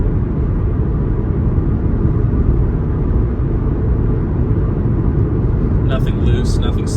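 A Toyota Supra with a six-speed manual gearbox drones steadily while driving, a loud, constant low engine and road rumble that holds for several seconds, with a few faint clicks near the end.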